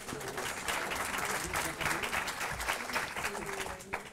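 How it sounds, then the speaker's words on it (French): An audience claps for a round-table guest at a gathering on liturgy, a fairly quiet, uneven patter of hands with faint background murmur. "Vous pouvez l'applaudir."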